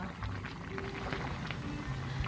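Water bubbles and hisses at a steady boil in a pot with spaghetti cooking in it, heard up close with a constant rolling texture.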